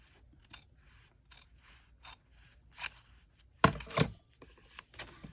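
Scissors trimming craft material to an even edge, a series of short crisp snips spaced irregularly, faint at first and then two louder, closer cuts, with no talk.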